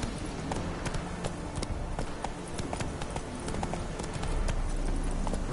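Hooves of Roach, the horse in The Witcher 3, clip-clop in a steady galloping rhythm close by, carrying through the whole stretch over a low rumbling background that swells louder near the end.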